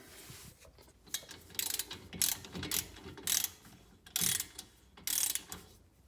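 Ratcheting wrench tightening a rear brake caliper bolt on a 2017-2019 Porsche 991.2 Carrera during a brake pad and rotor change, giving several short bursts of rapid clicking separated by brief pauses, close up with no talk.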